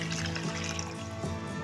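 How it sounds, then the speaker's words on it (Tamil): Tamarind water pouring into a pan of fried onion and tomato for a simple Tamil fish curry, giving a steady liquid splash and trickle that runs unbroken through the short moment. "இப்போ நம்ம இதில் இந்த புளி தண்ணியை வந்து நம்ம இதில் சேர்த்துக்கலாம்."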